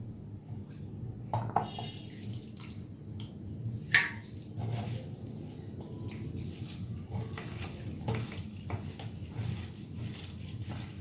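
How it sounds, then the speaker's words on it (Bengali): Flattened rice (chira) is washed in a bowl of water, making soft sloshing and squishing sounds with a few sharper splashes and clinks, faint and close. "এবার এই চিড়েটা আমি একটু ধুয়ে নেব।"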